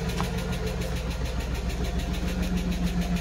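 A car engine idles steadily close by, a continuous low rumbling hum with a faint rhythmic ticking that holds for a few seconds, with no talking.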